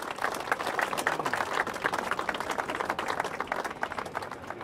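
Scattered, moderately loud clapping from an audience for folk musicians at the Drumherum music festival in Regen, with distinct individual claps in an uneven rhythm throughout.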